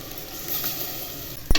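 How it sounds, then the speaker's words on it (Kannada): Ground masala paste sizzling and frying in hot oil in a pan, a steady close crackle with soft stirring, ending in a brief sharp knock of a utensil against the pan. "ಚೆನ್ನಾಗಿ ಎಣ್ಣೆ ಫ್ರೈ ಆಗಬೇಕು"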